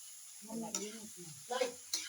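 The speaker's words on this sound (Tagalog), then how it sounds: "lagyan natin ng laman loob" Cleaned pork innards hit a pan already holding ginger, garlic and onion for pork dinuguan, giving a faint sizzle with a few brief stirring scrapes.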